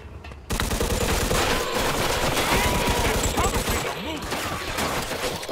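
Gunfire in the Mafia II: Definitive Edition video game, a sudden loud rapid fusillade of overlapping shots that continues for several seconds without a break.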